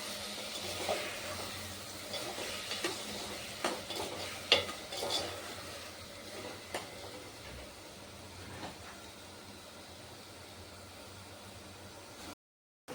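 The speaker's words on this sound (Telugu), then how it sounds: "బాగా కలుపుకుందాం." Spoon stirring curry in a pan for cauliflower and egg pulusu, soft scraping strokes and faint sizzle at a low level, a few sharper clinks, then silence near the end.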